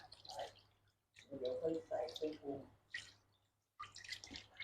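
Pork neck being rinsed under running water in a bowl, with quiet splashing and dripping in bursts separated by short pauses; a faint steady hum sits beneath.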